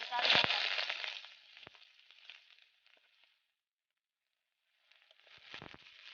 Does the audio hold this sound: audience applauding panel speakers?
no